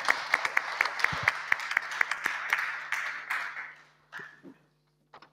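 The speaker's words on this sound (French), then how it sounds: "on vous applaudit encore" Audience applause at the public hearings for the Heritech Geste d'or heritage prize, starting as sparse, distinct claps that thicken into a steady patter, then fading out with a few last isolated claps.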